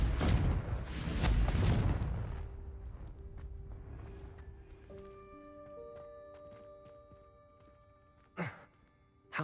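A blasting spell explodes in the Hogwarts Legacy video game: a loud burst of booming impact and rumble, then sparse ringing, tinkling debris tones and two sharp late thumps, with no talking.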